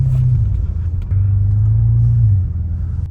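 850hp BMW M5 under way on the road, a loud, steady low engine rumble from inside the car with a sustained droning tone that rises slightly before easing off.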